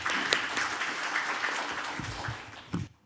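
Moderate applause from an audience at a policy forum welcoming a speaker, a steady patter of clapping that tapers off at the end with a few louder claps.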